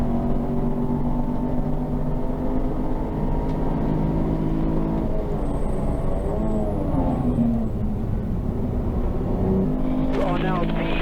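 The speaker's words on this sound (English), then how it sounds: "Some more cars lapping." Engines drone steadily as 750 Motor Club Roadsports race cars circle Silverstone's International circuit, pitch rising and falling as they pass, with a voice speaking over the noise.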